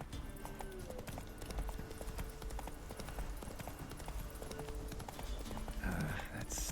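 Roach the horse galloping in The Witcher 3, steady rapid hoofbeats clip-clopping throughout, close and clear, with a brief snort or whinny near the end.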